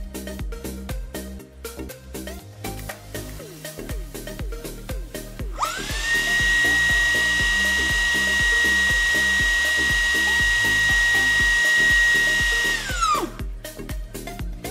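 A Dreame V12 handheld vacuum cleaner switches on partway through with a rising whine, then holds a steady, high-pitched motor whir for about seven seconds before spinning down, over rhythmic background music that plays throughout.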